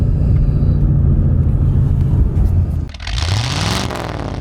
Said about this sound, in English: listen to that sound,